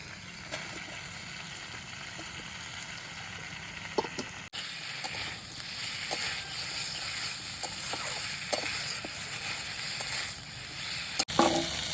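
Tomatoes go into a sizzling pan of katla fish curry with boiled potatoes and brinjal, a steady close frying hiss with scattered crackles and a brief stir, briefly cut off near the middle.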